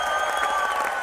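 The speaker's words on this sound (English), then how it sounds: "Hold your applause, though." Audience applause at a live football preview show, a dense steady clapping that stays even and fairly loud throughout, with no voices over it.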